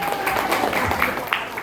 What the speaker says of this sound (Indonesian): tepuk tangan lagi dong teman-teman ya